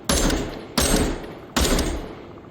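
Three sharp, loud virtual gunshots from a VR shooting game fire at an even pace about three-quarters of a second apart, each with a quick decaying tail.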